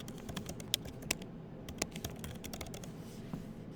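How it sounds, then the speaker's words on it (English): Keys clatter on a computer keyboard as someone types into a Word document online, producing a quiet, irregular run of close clicks with a few sharper strokes. "I can type my explanation here."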